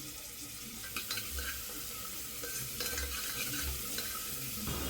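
Onion and tomato frying in a pan for soup, a steady faint sizzle with occasional soft stirring scrapes, close and quiet with no one speaking.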